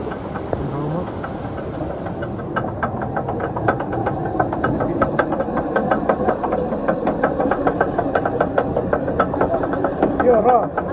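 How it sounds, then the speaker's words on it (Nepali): A traditional organic water mill in a Nepali village near Narchyang grinds buckwheat and maize, giving a steady mechanical rumble with rapid regular knocking and clatter that carries on throughout, fairly loud and continuous. "यहाँ फाबर पिसिँदैछ होइन"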